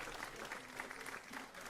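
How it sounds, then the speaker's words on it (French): A conference audience gives a short, faint round of steady clapping, heard from a distance. "est-ce qu'on peut applaudir à nouveau, s'il vous plaît?"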